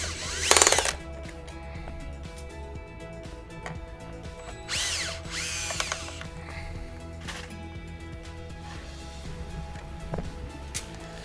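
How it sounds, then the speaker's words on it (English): Power drill driving screws to fix a Levil Aviation BOM mount in place, with short whirring bursts separated by quiet pauses, the loudest burst coming near the start and a longer one midway. "And now tighten the screws so it doesn't move anymore"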